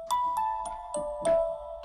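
A sampled music box instrument plays a short run of five delicate bell-like plucked notes, each chiming and ringing on softly, quiet and alone.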